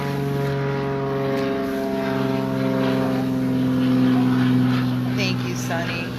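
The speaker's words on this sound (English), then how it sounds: "there's a plane going overhead" A propeller airplane drones overhead, a loud, steady, throbbing hum that holds for several seconds and swells slightly at its peak, with a voice talking over it.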